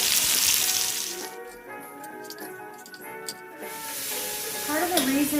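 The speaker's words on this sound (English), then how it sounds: "we're going to throw onion in here and let them cook a little bit" Onions sizzling and frying in a pan as a base for broccoli cheese soup, a steady close hiss with occasional stirring scrapes and ticks, alone without talk.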